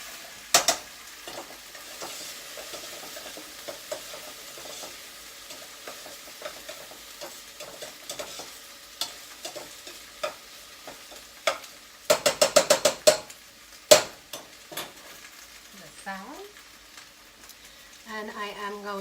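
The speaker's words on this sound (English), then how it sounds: "I'm just stirring up my okra because I do want it to be nicely evenly cooked." Okra frying in a pan gives a low steady sizzle while a utensil stirs it, scraping and clacking in scattered bursts with a dense cluster of knocks midway; a close, moderately quiet kitchen sound with no talk.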